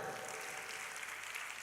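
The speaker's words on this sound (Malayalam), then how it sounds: "നല്ലൊരു ക്ലാപ്പ് കൊടുത്തേ." A room of students claps together, a dense continuous patter of many hands, fairly faint and steady from start to finish.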